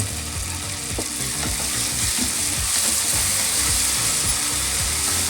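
Chopped tomatoes go into a pan of browning onions for Karnataka-style baingan bharta, giving a loud, steady oil sizzle with scattered clanks and scrapes of a spoon stirring through the whole stretch.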